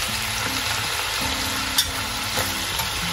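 Garlic frying in a pan, a steady close sizzle with light stirring movements throughout and no voices.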